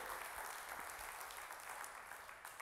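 A church congregation applauds during a sermon, with dense, steady clapping at moderate distance that holds throughout without any talk.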